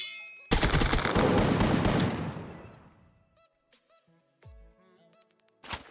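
Gunfire in a video game, with a dense burst of rapid automatic shots that starts suddenly, rings out loud for about two seconds, then tails off into quieter scattered effects before another short blast at the end.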